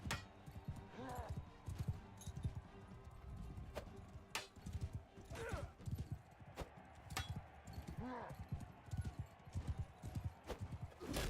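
Horse hooves clip-clop across an arena in the video game South of the Wall, a steady run of hoofbeats mixed with game noise and a few sharp knocks, with a voice talking throughout.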